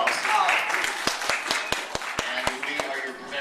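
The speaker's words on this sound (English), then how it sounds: "Please give him a round of applause." An audience at FAO Schwarz claps in scattered, sharp individual claps that build into a loose round of applause, fairly close, with someone speaking over it.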